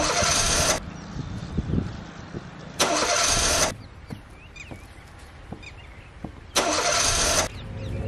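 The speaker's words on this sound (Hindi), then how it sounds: "यार गाड़ी स्टार्ट नहीं हो रही।" A car engine cranks three separate times in short, loud whirring bursts without catching, with quiet pauses between the attempts.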